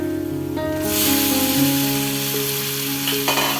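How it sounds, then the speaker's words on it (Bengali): Fried pumpkin leaves are tempered with spices in hot oil, a sudden close sizzling burst erupting after a brief pause and then hissing on steadily over a sustained tonal background hum. "এই তো এখন বাগার দিয়ে নিতেছি।"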